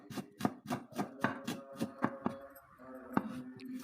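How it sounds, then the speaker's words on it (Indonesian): A knife slices chilies, shallots and garlic for lunchbox meals, making a quick, regular run of crisp chopping taps on a cutting board, pausing briefly before a few more cuts, close and fairly quiet. "lanjut saya akan iris-iris 150 gram cabai, 100 gram bawang merah,"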